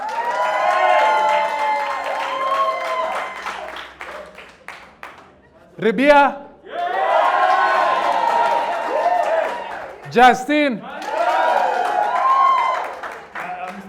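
Audience cheering and clapping for a debater named Justine at a televised cancel-culture debate, loud crowd noise mixed with a host's voice and audible speech throughout, with brief bursts between spells of crowd noise.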